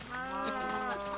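A cow moos in a video game, one drawn-out, tonal low call lasting just over a second, loud and close with no talk over it.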